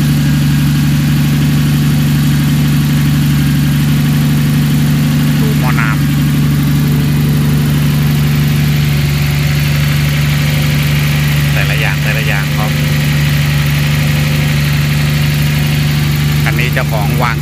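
A Nissan Navara pickup fitted with a swapped Skyline RB26 engine idles loudly with a steady deep hum, while someone talks over it.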